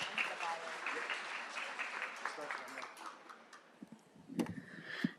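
A faint round of applause from an audience at a tribal public health policy event in Kansas, with steady soft clapping under murmuring that thins out, then a few louder claps near the end.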